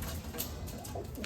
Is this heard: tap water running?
no